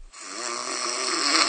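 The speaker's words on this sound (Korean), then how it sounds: "그렇게 코를 골아대는데" A person snores in one loud, rasping breath that swells steadily for more than a second, heard alone and close.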